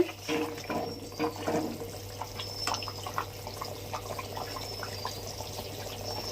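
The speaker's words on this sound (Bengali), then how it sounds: "জল ফুটে গেছে" A pot of water comes to a boil while rohu fish curry with pointed gourd and potato is cooked, giving soft bubbling and gurgling with a few clinks over a steady low hum, close and fairly quiet.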